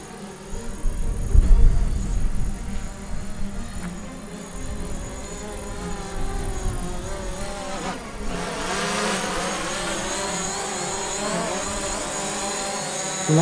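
A DJI Mavic Pro drone flying in fixed-wing mode gives a steady, insect-like propeller whine whose pitch shifts partway through, with no talk over it.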